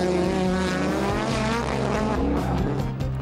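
A V8 Nissan S14 drift car races at a D1NZ drifting event in Taupo, its engine roaring loud and close with rising and falling revs and a faint tyre squeal.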